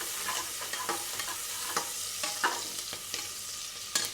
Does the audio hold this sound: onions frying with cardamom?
yes